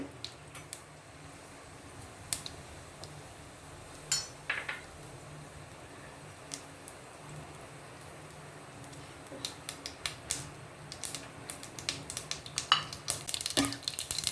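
Mustard seeds crackle and pop in hot oil while cooking a Tamil-style eggplant gothsu, sparse quiet pops at first that grow quicker and denser toward the end, with no voices.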